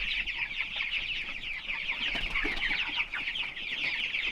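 Chickens cluck and chatter steadily at a feeder, a dense, continuous flock sound close by with no one talking.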